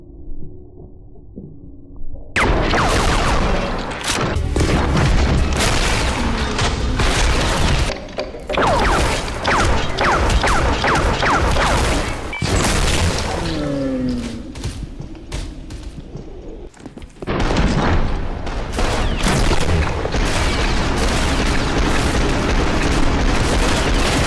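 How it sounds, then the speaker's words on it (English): Distorted gunfire and explosions from the video game Maximum Action, with multiple guns fired at once: loud harsh rapid bursts and booms that repeat with short gaps, starting after a quiet opening. "when you're shooting multiple guns at once, it just sounds like this giant distorted fucking explosions coming out of even the pistols"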